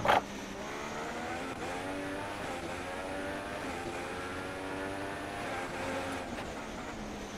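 An F1 car engine in the F1 2016 racing game at Hungary qualifying screams steadily at high revs, with repeated quick rises and drops in pitch like gear changes, loud and continuous with no talk.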